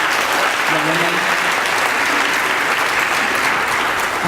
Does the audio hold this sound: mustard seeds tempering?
no